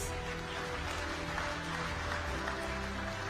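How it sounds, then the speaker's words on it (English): Audience applause at the Africa Bitcoin Conference, a continuous wash of clapping heard from a distance over a steady low hum in a large hall. "Another round of applause for them"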